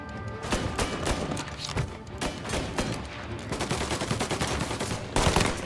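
Dense gunfire in the video game Mafia, a loud, relentless barrage of overlapping shots and rapid bursts with heavy impacts, continuous for the whole stretch without speech.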